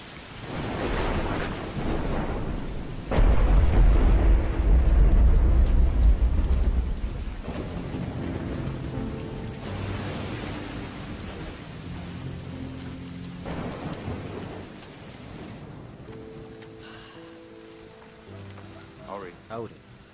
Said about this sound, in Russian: Великий дождь.